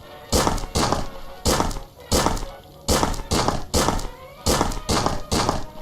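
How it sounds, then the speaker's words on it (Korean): Shovel digging sounds from the video game Colony Survival, about ten evenly spaced crunching thuds in a steady rhythm, close and fairly loud with no talk over them. "삽질하는 소리죠"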